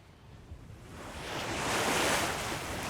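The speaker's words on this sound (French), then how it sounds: "Le redoutable vent des Cyclades, le fameux Meltem, s'est levé." Rough Aegean sea off the Cyclades whipped by the Meltem wind, a broad steady roar of surf and gusting wind that swells louder midway and stays strong, with no voices.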